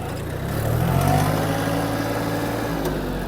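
Engine of a Yanmar F-20 mini tractor pulling away in gear, a steady mid-pitched drone that swells slightly as it gains speed and then holds, close and continuous with no voices.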